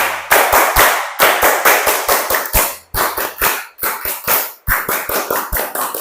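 Schoolchildren in a class perform a rhythmic concentration clap, sharp loud claps in unison grouped into quick patterned bursts, separated by brief pauses.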